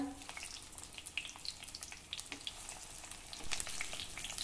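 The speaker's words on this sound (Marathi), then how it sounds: "हे तेल गरम झालं की यामध्ये हे वांगे घालूया" Brinjals frying in hot oil in a wide, thick-bottomed pan for a dry village-style kharda vangi dish, a steady close sizzle with scattered crackles and pops throughout, no talking.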